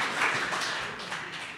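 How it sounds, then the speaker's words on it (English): An audience claps for Barry Jones in a brief, scattered burst of applause from a moderate distance. "give him a clap"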